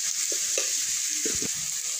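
Tomatoes with turmeric, cumin and other ground spices frying in a pan, a steady sizzle broken by several scraping, clattering strokes of a spoon stirring, close and clear with no talking.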